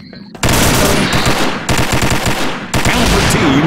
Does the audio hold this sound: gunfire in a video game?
yes